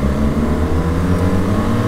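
BMW R1300 GS and R1250 GS motorcycles accelerating hard in third gear from about 30 mph, a loud, close, continuous engine roar with a dense rising drone.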